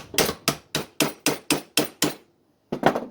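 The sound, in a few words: hammer tapping the end of a leghold trap pan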